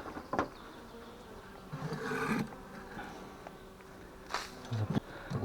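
Honeybees buzz in a low, steady drone close by on hive frames at a neglected apiary, with occasional louder passes and faint handling clicks.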